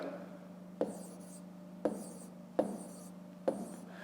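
Pen or marker strokes on paper or a board while working through a long division of 9680 by 16, four short scratchy writing bursts spaced about a second apart over a low steady hum, fairly faint.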